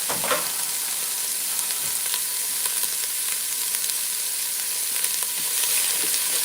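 Onions sauté in a soup pot for a creamy veggie tortellini soup, a steady close sizzle and crackle with occasional stirring scrapes, no talking.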